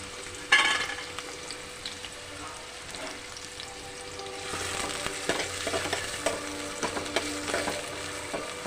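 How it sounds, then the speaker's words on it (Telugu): Finely chopped large onion sizzles steadily in hot oil in a pot, with occasional stirring scrapes and a louder crackle after being mixed, no voices. "ఉల్లిగడ్డ బాగా నూనెలో ఫ్రై అయింది"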